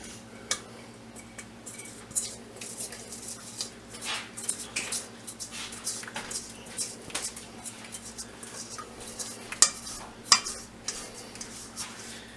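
A rubber spatula scrapes pumpkin dessert batter out of a bowl in a home kitchen, giving soft intermittent scrapes and a few sharper clinks against the dish over a steady low hum, with no talking.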